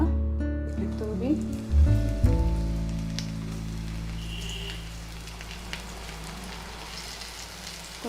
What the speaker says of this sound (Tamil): இப்போது இது எண்ணெய் அடுப்பில் காஞ்சிட்டு, இப்போது இதை கொஞ்சம் கொஞ்சமாக தூவி